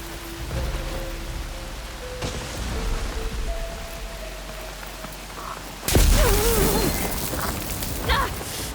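A storm in Horizon Forbidden West brings steady heavy rain and rumbling noise under sustained tones. A sudden louder burst of storm noise and a crackling surge arrive partway through.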